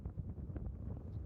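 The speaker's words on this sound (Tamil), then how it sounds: "காற்று சரியான காற்று, அதனால வெயில் தெரில" Strong wind blows near the beach at Corniche, Saudi Arabia, on a rainy day, a steady low rumbling buffet across the microphone with no voices.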